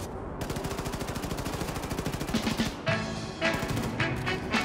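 Rapid automatic gunfire rattles in a steady fast stream during Wolfenstein II combat, loud and close. Heavier blasts and crashes break in near the end, with no talk over them.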